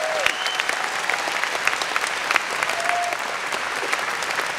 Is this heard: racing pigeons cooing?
no